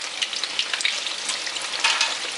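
Chicken pieces deep frying in hot oil for sweet and spicy fried chicken, a steady bright crackling sizzle with small popping bursts, close and continuous.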